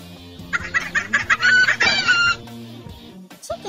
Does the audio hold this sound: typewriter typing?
no